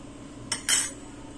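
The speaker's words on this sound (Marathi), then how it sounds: "आणि हे तेल असं चमच्याने हलवून घेऊया।" A spoon stirring hot oil into rice flour for Diwali rice chakli dough, heard as two brief metallic scrapes against the bowl, close and sharp, with quiet in between and no talk.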